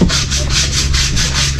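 Rhythmic back-and-forth scratching of sandpaper rubbing on a surface, about eight even strokes, close and loud.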